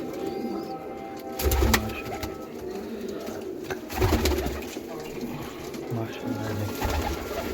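Teddy pigeons coo in low, soft repeated bursts against a steady background hum of birds and ambient noise.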